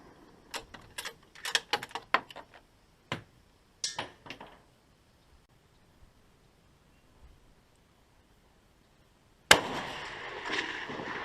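A rifle fitted with a Lucid L5 scope fires a rapid string of sharp cracks in the field, then a few scattered shots and quiet, before a burst of rustling close by.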